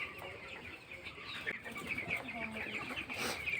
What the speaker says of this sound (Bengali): ওই দেখুন খাচ্ছে ভ্যাকসিন, কত সুন্দরভাবে খাচ্ছে ব্রয়লার মুরগিগুলো